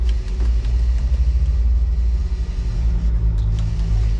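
A 200 hp outboard motor on a 2023 20-foot boat idles with a low, bubbling gurgle and rumble, steady and close, pulsing slightly throughout.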